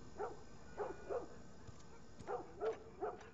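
A dog barking in The Last of Us video game, two bursts of three sharp barks separated by a short pause, moderately loud over a low, quiet game ambience, with no speech.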